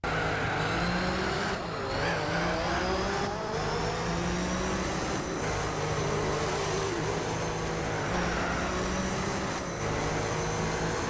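Race cars in the PlayStation 2 racing simulator Gran Turismo 4, engines droning steadily with tire squeal and skidding, a loud continuous mix with no talking.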